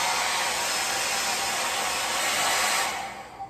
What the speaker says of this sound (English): Let's do a sound comparison for this hair blow dryer.